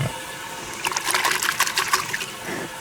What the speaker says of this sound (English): And you see it fills that cup up with water.